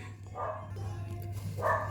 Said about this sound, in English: my dog is barking and it's throwing me off